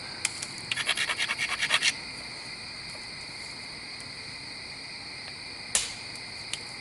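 A dacite flint knapping preform has its edge ground with a quick run of close, rhythmic scraping strokes. Later comes a single sharper scrape over a faint, steady background hum.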